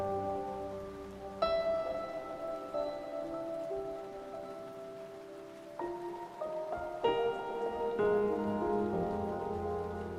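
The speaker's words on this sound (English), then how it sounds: "there's a note at the very top that can play rain." Synthesizer patch with a rain note latched on high C, giving a soft steady hiss of rainfall under sustained keyboard piano notes that change chords a few times.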